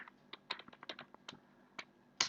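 Python code typed on a computer keyboard during a beginner coding lesson: a quick, uneven run of close, crisp key clicks, with a louder cluster of strikes at the end and no talking.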